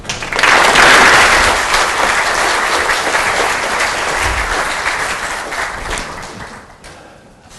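An audience bursts into loud, sustained applause to welcome a speaker at a policy talk, the clapping swelling quickly, holding for several seconds, then thinning out into scattered claps.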